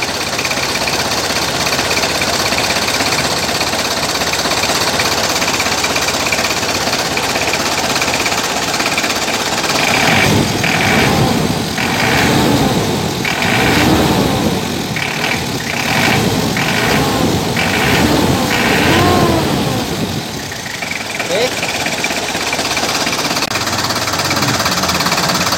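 Car engine idling with a noisy air conditioner compressor clutch: a steady loud engine drone, then from about ten seconds a series of rhythmic grinding, rattling pulses from the clutch engaging, fading out near the end.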